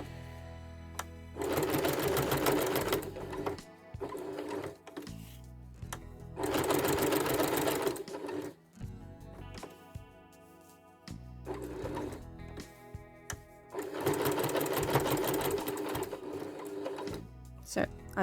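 A sewing machine stitches a log cabin mug rug in bursts of rapid, loud, even stitching, three long runs separated by pauses filled with quieter handling sounds.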